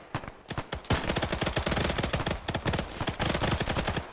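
Dense, rapid gunfire from an Arma squad battle, automatic bursts and single shots overlapping continuously at close to medium range, loud and unbroken for several seconds with no voices.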